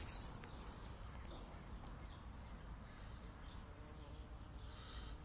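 Bees hum and drone around garden beehives, a faint steady outdoor buzz with occasional insects passing closer, alone without talk.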